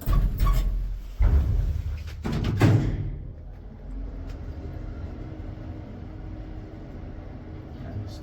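An old Schindler two-speed traction elevator serving three floors in a Helsinki apartment block clunks and thuds loudly at the start, then settles into a steady, low running rumble.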